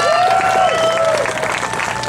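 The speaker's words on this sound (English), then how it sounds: "A big round of applause for your water safety crew" Audience applause at an awards ceremony honoring the water safety crew, a steady wash of clapping with a bright whistle-like tone gliding over it, loud and sustained throughout.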